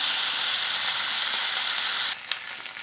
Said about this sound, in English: Nice golden brown sear, nice good sear on those